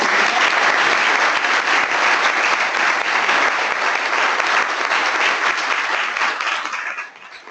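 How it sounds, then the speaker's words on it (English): Sustained applause from an audience at a community education and outreach meeting, honoring the host; steady, dense clapping throughout that tapers off near the end. "can I just get a round of applause for our host?"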